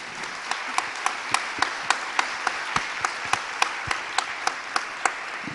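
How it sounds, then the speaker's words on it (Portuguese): Audience applause at a panel event on women's leadership in the Amazon, heard as light, scattered hand clapping with distinct individual claps at a moderate distance and no voices over it. "Nunca é demais a gente pedir uma salva de palmas para essa mulherada valente da Amazônia."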